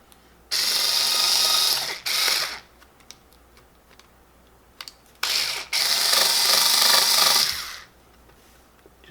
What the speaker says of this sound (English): I like to use my cordless screwdriver for this